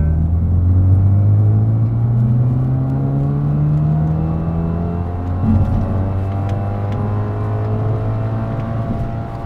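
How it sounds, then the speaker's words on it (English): BMW 328i F30 with the N20 engine idling, a steady, loud low rumble with a smooth drone and slight pitch wander throughout, close to the engine and free of talk. "So the car idles very well."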